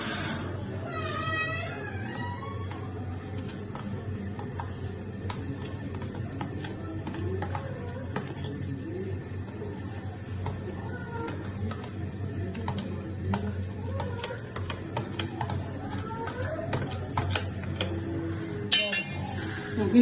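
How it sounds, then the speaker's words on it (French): Kandia soup with okra, green pepper, green chili and green onion being stirred in a pot, a steady run of soft clinks and scrapes beneath continuous nearby kitchen noise, with no talking. "On va mélanger le tout."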